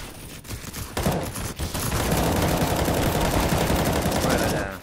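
Gunfire in the video game CS:GO comes as a few sharp shots, then a dense, continuous rapid-fire burst of automatic weapon fire that lasts for several seconds, loud and close.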